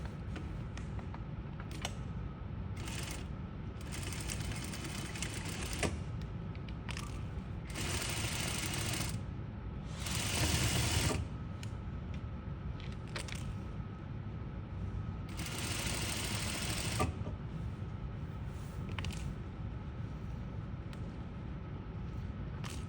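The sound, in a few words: sewing machine stitching fabric up to a corner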